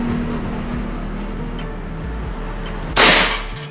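A single sharp shot from a Predator 460cc full-CNC PCP air rifle during an accuracy test, a sudden loud crack with a brief hissing tail after a stretch of steady outdoor background noise.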